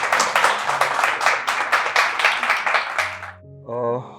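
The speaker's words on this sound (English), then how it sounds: "A big round of applause." An audience applauds to welcome a speaker onto the stage at an investment talk session. The clapping is steady and dense for about three seconds, then fades out as a voice begins speaking.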